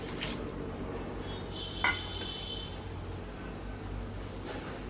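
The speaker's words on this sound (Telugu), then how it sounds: "పోసుకొని అంతా కలుపుకోవాలి." Water is poured into an Andhra-style spicy fish curry after the tamarind juice and stirred in a pot, giving soft liquid sloshing with faint clinks of a spoon against the vessel and one brief sharper clink.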